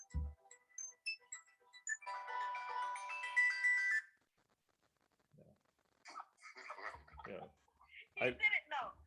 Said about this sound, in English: Super High Man's trying to call me on my phone and messing me up